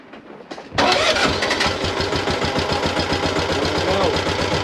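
A Mule utility vehicle engine with a bad fuel gasket cranks briefly and then catches, settling into a loud, steady, close mid-pitched running rumble with a rapid mechanical chatter.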